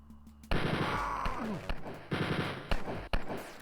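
Gunfire bursts from the video game Wolfenstein 3D, with rapid machine-gun fire from about half a second onward, broken by brief pauses and several sharp single shots, loud and close with no talking.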